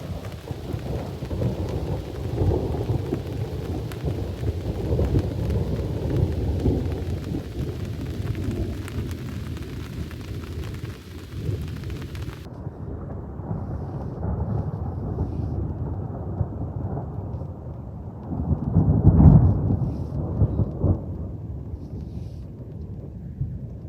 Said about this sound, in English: All right, here comes the rain.